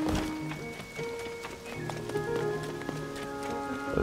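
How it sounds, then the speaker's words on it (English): Rain falls in Zelda: Tears of the Kingdom as a steady patter, mixed with game music and tonal effects that run throughout, no talking. "That's a bit of rain."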